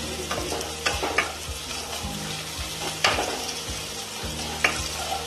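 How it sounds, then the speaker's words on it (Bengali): Onion and minced garlic fry in a pan with a steady sizzle, broken by several sharp scrapes and clacks of a spatula stirring through the mix, close and fairly loud with no voices. "পেঁয়াজটা লাল করে ভাজব, তার সাথে রসুন কিমা একসাথে পেঁয়াজের সাথে হালকা করে ভেজে নেব।"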